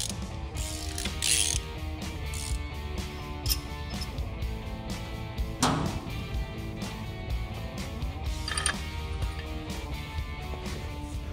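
Hand ratchet tightening the C-cap bolts on a classic Ford Bronco crate axle during a restoration build, a steady run of close, loud mechanical clicking and grinding in a workshop with no talk.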